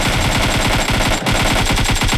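Gunfire in a video game gunfight: rapid, sustained automatic fire in a dense, rhythmic stream of loud shots, with no talk.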